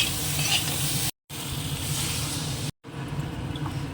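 Potato and radish pieces with tomato sautéing in a pan, a dense continuous sizzle close by with stirring scrapes, briefly cut off twice.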